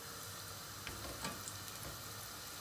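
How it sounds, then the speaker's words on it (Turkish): Floured chicken liver frying in hot oil, a steady close sizzle and crackle throughout, with a few faint pops and no talking. "direkt yağın içine atıyoruz."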